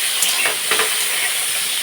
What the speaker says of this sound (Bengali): একদিকে পটল ভাজতে বসিয়েছি, পটল চিংড়ি করব সেই জন্য